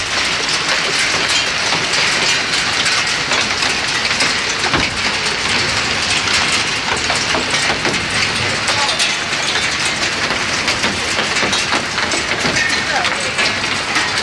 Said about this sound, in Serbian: kiša pada li pada.